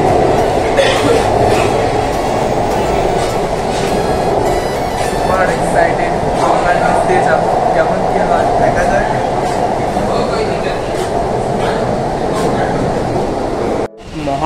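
A Kolkata underwater metro train runs through a tunnel between Esplanade and Howrah Maidan, a loud, steady rumble and rail roar that fills the whole stretch, with faint voices and a cough in the carriage, cutting out briefly near the end.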